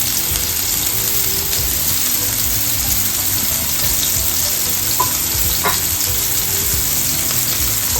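Onion and garlic frying in a pan for a pumpkin risotto, a steady close sizzle with soft stirring scrapes and a couple of brief clinks, no voices.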